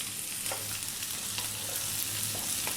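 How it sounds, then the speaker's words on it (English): Onions frying over high heat in oil infused with mustard seeds, cumin seeds and chili for dal tadka, a steady close sizzle with faint stirring scrapes and small pops, no talk. "going to cook these onions for about 4 minutes, stirring often."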